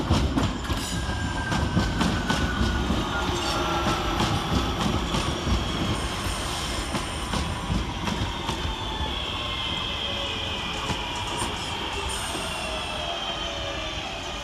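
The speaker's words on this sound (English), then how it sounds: "Next in to arrive is 323238, working the 1325 Northern service from Liverpool Lime Street to Crewe via Manchester Airport." A Northern Class 323 electric train pulls into Manchester Oxford Road station, rumbling close by with rapid rail clicks and rising wheel squeals that ease as it slows, with no voices.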